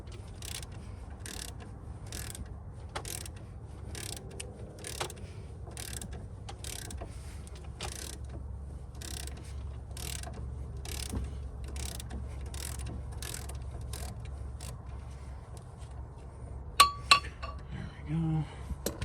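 A ratchet with a 1/2 inch socket clicks in rapid repeated bursts while taking off the speed sensor line during upper ball joint work on a 1997 Chevy, soft and close, ending with a few metallic clinks.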